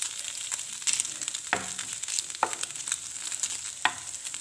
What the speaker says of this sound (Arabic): كنشحرو في الزويته